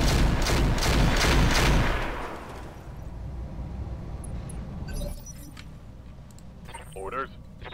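A rotary autocannon firing in the mech game Roguetech: a loud rapid burst of shots rattles for about two seconds, then fades into a lingering rumble, while someone talks over it.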